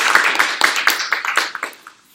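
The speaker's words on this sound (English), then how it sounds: "everybody give a clap" An audience claps in quick, separate bursts close to the microphone, with a lively uneven rhythm that thins out and fades to quiet after about two seconds.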